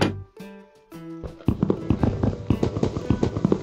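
A burst of rapid crackling pops, like a Minecraft explosion, erupts loudly after a few seconds of tonal music and continues in a dense, irregular barrage.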